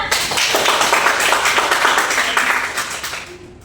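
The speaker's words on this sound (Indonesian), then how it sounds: "Boleh tepuk tangan untuk Nanda." A classroom of students claps for a classmate during a civics lesson, a short burst of dense applause that stays full, then thins and fades toward the end.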